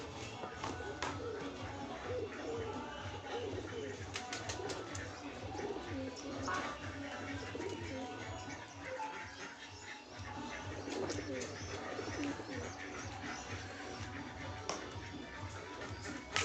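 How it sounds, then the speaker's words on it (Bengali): Pigeons feeding in a backyard coo in low, repeated phrases amid shuffling and scattered rustles, with a person speaking intermittently nearby and a dog faintly present. "এখানে সব পায়রাগুলো খাবার খাচ্ছে।"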